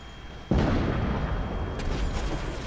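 Heavy weapons fire in a Titanfall-style video game, a sudden loud blast followed by a sustained rumbling barrage of booms that keeps rolling for a couple of seconds, close and dense without talk.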